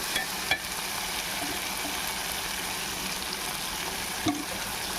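Tomato and mushroom masala fries in a pan with a steady, close sizzle and hiss, broken by a couple of faint clicks from the utensil.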